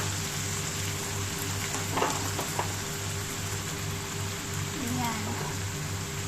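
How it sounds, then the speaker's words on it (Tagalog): Curry paste and butter fry in a pan for chicken Thai curry, giving a steady crackling sizzle like light rain that runs the whole time, with a voice speaking briefly over it. "Iprito lang natin siya, guys."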